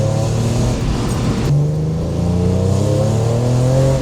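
A 600 hp BMW E46 M3 engine pulls hard at half throttle, a loud, close rising engine note that briefly drops and climbs again as it accelerates.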